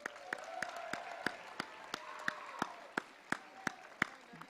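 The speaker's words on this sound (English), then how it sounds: "So give them another round of applause," Graduation audience claps for the parents at a high school commencement, scattered sharp claps over a steady crowd wash, fairly distant and moderately loud, with sounds of voices mixed in.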